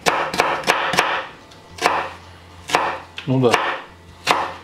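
Knife chopping vegetables on a wooden board, a series of sharp, close thunks at an uneven pace, with a brief spoken word in between.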